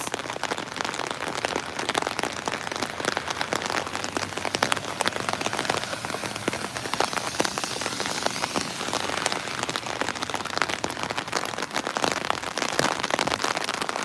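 Steady rain falling during an outdoor Out of the Darkness walk, a dense continuous hiss of drops pattering on surfaces with scattered sharper taps, fairly loud and even throughout with no voices.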